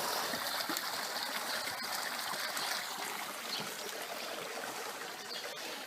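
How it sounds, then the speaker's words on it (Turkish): Cold spring water at Van, Turkey, flows and trickles in a steady, soft outdoor rush that carries on alone throughout. "bir kaynak suyu gerçekten çok leziz ve soğuk"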